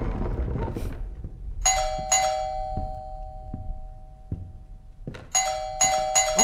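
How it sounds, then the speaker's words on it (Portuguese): Doorbell in the video game Supernatural, two loud ding-dong chimes pressed in succession, then two more after a pause, with soft knocks and room noise between. "Tô tocando a campainha."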